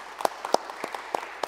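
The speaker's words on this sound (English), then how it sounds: "So please give Faik Im a special round of applause for doing this." A handful of sparse, separate hand claps at the Global Seaweed Coalition annual meeting in Paris, uneven and spaced apart rather than a full ovation, fairly close and brief.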